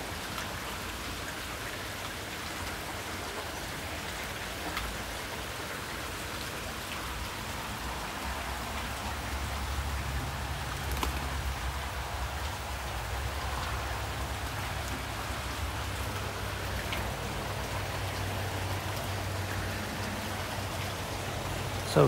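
Heavy rain pours outdoors in a constant, even wash of drops striking surfaces, with a soft low rumble underneath and no speech.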